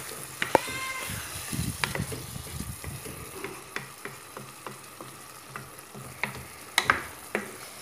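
A veal and potato stew with grated tomato simmers and sizzles softly in a pan while a utensil stirs it, with scattered scrapes and clinks close by and a brief high squeak near the start.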